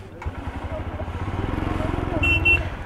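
A motorcycle at Khardung La pass in Ladakh, its engine idling with a close, rhythmic throbbing putter that quickens slightly, joined by a couple of short beeps near the end; a voice speaks over it.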